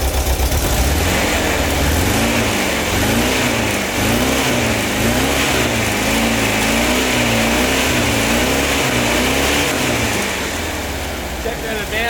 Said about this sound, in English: Sounds like a good idle.